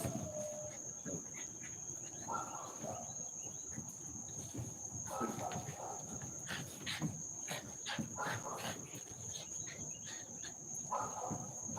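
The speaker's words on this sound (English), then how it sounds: "Grasshopper noises" Grasshoppers chirp outdoors in a steady, continuous high trill that runs without a break, faint and distant, over soft scattered background noise.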